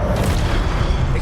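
Accio spell effect in the video game Hogwarts Legacy, a sustained low rumbling boom with dense steady energy lasting just over a second, loud and continuous without a clear attack.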